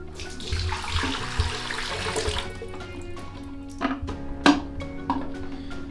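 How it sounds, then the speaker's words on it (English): Running water washing 35mm black-and-white film during home developing, a steady pour and splash that fades into scattered close drips and small knocks, with no talking. "So now we wash the film for 3 minutes"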